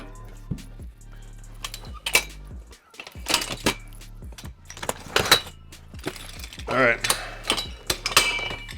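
A Proform Ultimate Body Works bench trainer being folded down: scattered metallic clanks, clicks and ratcheting knocks at irregular intervals, close and moderately loud, with brief voice sounds mixed in.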